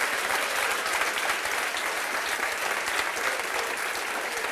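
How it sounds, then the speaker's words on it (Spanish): A congregation at a church spiritual retreat claps loudly and steadily, dense sustained applause filling the room with no speech over it. "Dele fuerte el aplauso al Señor."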